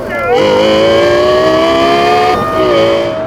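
A Lexus LFA V10 engine holds a steady, loud high-pitched wail with sustained harmonics, easing slightly before climbing again near the end, heard alone without talk.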